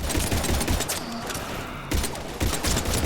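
Gunfire in Mass Effect 3, fought against Husks, comes as rapid, loud automatic bursts with a short pause in the middle before the firing resumes.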